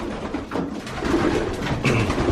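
Pigeons cooing after a three-hour flight, soft throaty coos repeating over low background noise, fairly close but not loud.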